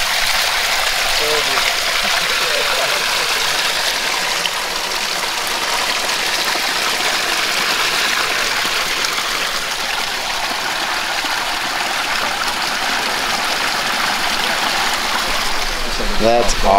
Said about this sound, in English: You want to see how to tweak the waterfalls?